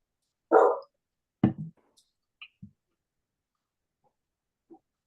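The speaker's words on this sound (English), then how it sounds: "All right, who's got the dog?" A dog, a young pet heard in the background of an online knitting meeting, gives one sharp bark followed by a second bark and then several softer yips and small sounds separated by silence.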